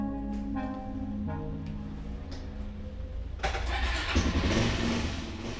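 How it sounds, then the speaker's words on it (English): A motorbike engine is started on a rural road in Ecuador, with cranking followed by the motor catching and settling into a steady idle. "She started up on the first try."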